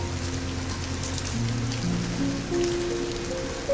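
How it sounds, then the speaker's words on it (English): Steady, dense rain falling on a countryside vineyard and railway tracks, a continuous hiss with low droning tones underneath and no voices. "the rain continues to fall on the vineyard, on the train tracks, on the sleeping countryside"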